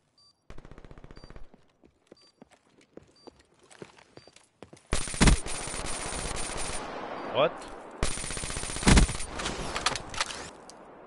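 Game gunfire starts as scattered clicks and single shots, then erupts into loud bursts of rapid automatic fire with brief pauses between volleys.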